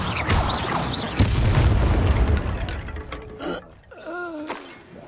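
A Bombarda blasting spell explosion in Hogwarts Legacy: a loud booming blast with rumbling debris that decays over a couple of seconds, followed by a brief voiced grunt.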